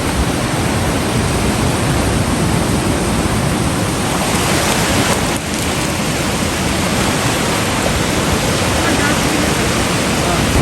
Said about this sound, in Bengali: মাঝে মাঝে ঢেউ সোজা চলে আসছে একদম পায়ের কাছে